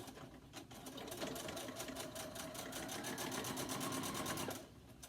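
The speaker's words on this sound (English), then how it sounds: "I'll put a nice back stitch in there to give it more support." A sewing machine runs a back stitch while attaching nose wire to a fabric face mask. The stitching is steady and rapid, held for several seconds at low volume, then stops.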